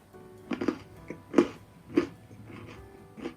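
Crunchy bites and chewing on a white chocolate Oreo fudge brownie, with about four close, distinct crunches spread over a few seconds and soft mouth noises between them.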